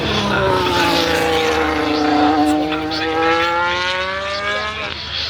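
A Ferrari Formula 1 car comes around at Silverstone during a practice session, its high engine whine rising and shifting in pitch as it passes, loud and sustained over a constant background roar.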